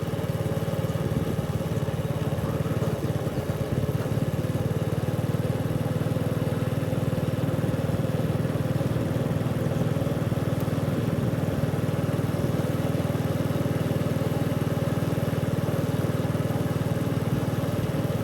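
Motorcycle engine running steadily throughout while riding through dry-season countryside in Anouvong, Xaisomboun, Laos, a continuous close mid-pitched drone with no speech.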